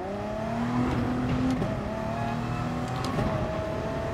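A 2016 Audi R18 race car engine in Gran Turismo Sport holds a loud, steady high-pitched drone with rising and falling gear-shift tones, continuous throughout with no speech.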